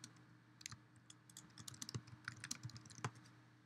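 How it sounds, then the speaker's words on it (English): Keys tapped on a keyboard while typing a new blog post in the BlogPad Pro app, soft irregular clicks at a close, quiet level with no talking. "Feel free to start typing."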